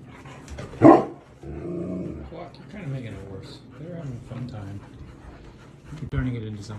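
A dog gives one loud, sharp bark near the start, then pants and makes soft vocal noises under a person's talk, with another short burst near the end.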